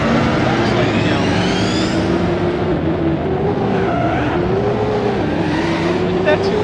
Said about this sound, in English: So this is my ATV. And I'm about to roll that.